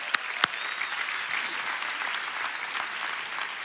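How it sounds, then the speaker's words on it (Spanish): Church congregation applauding steadily at a service, a dense wash of clapping from a crowd with a couple of sharp louder claps near the start, continuing evenly throughout. "Un aplauso para ellos."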